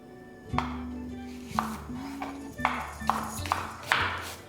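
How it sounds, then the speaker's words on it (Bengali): Two onions are sliced thinly with a knife for chana dal pulao: sparse, crisp chops land about every half second, close and fairly quiet, over soft steady background music. "আমি এখানে কেটে নিচ্ছি দুটো পেঁয়াজ"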